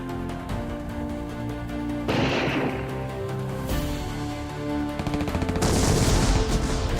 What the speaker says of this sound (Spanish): ¿Oyeron eso? Cañones, explosiones, disparos, aviones, sí.